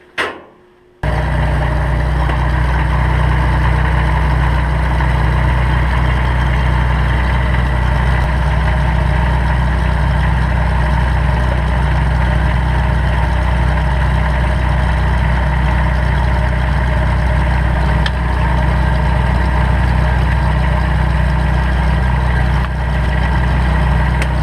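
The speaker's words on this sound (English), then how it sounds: "Maybe I'll try and drive the tractor up and see if it lines up at all." A Kubota BX2200 compact tractor engine idles steadily with a deep, constant rumble and hum, close by, running on without change and with no talking.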